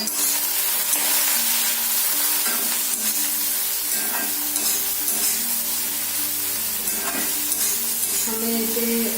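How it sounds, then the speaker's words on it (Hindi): Eggplant pieces fry in hot oil with salt and turmeric and are stirred in a pan for a Bengali home-style flat bean seed daal, giving a steady close sizzle with scraping stirs and no talking. "हमें इसे जब तक ये बैंगन अच्छी तरह से फ्राई नहीं हो जाता है तब तक हमें इसे पकाना है"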